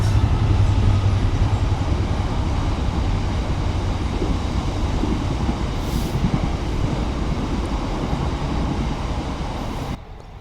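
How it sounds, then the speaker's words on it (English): A train rumbles past near a river, a steady loud low-pitched roar holding for about ten seconds before easing at the end, with no talking. "There comes that train."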